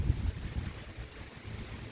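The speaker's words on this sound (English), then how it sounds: "It's a nice day, but man, it's just so windy" Strong, gusty wind outdoors on a sunny day buffets the microphone with a low, blustery rumble that rises and falls in fairly quiet, uneven gusts. No voices.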